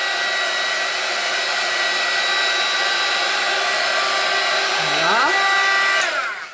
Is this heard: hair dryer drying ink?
yes